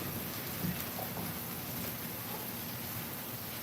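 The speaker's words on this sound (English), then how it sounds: "So I'm happy that it's raining." Steady rain falling outdoors, a soft continuous hiss with faint scattered drops, fairly quiet and unbroken, with no talking over it.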